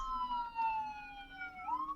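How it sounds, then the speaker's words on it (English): Ambulance siren in Mass Effect: Legendary Edition, a single faint wailing tone that slowly falls in pitch, then sweeps back up, heard briefly and alone. "Oh no, there's an ambulance."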